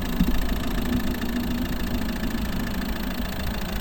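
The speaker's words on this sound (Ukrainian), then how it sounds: "Робота двигуна." A 2011 Volvo S40 1.6 D2 diesel engine idles steadily up close, a continuous low rumble with a faint rhythmic clatter and no voices.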